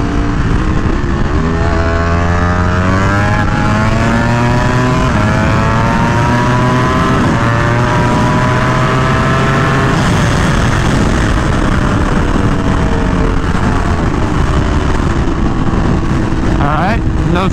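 Ducati Panigale V4R motorcycle engine revving loudly and continuously while the new clutch is tested, pitch climbing and dropping through repeated throttle sweeps, close and dominant throughout.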